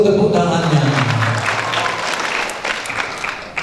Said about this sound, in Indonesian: Lebih seru tepuk tangannya.